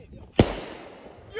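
A cannonball firework explodes outdoors in a single sharp, loud bang that dies away into a lingering rumble.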